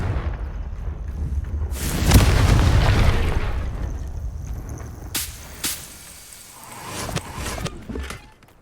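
In the Hogwarts Legacy video game, a Confringo blasting spell fires and bursts in a loud booming explosion. Sharp cracking pops and a rumbling tail follow, and a few smaller bursts come later.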